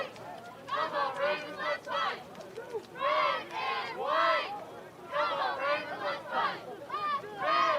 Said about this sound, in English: Raven crowd trying to get him into it.